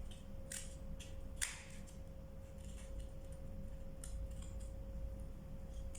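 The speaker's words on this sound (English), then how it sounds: "you try to cut it in V shape from here" Scissors snip an eggshell into a V shape in a few quick, faint clicks and crisp cuts close by, set against a quiet room with a low hum.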